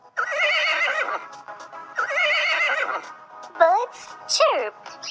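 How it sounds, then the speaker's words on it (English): Two long, wavering horse neighs, loud and close, each whinny shaking through its pitch, followed by two short rising squeals; no talking. "Horses neigh."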